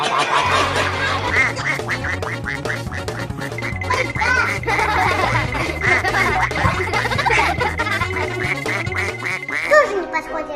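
A cartoon duck quacks repeatedly and loudly over bouncy background music in a children's animation, with a child-like voice mixed in among the quacks.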